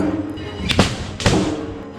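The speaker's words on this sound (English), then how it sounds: "suddenly a pair of gunshots fired into the air" Two sharp gunshots fired into the air at a Limbu wedding in Nepal ring out about half a second apart, loud and echoing outdoors over a low background rumble.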